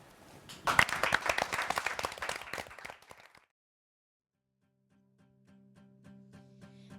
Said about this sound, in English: let's give a round of applause to Desiree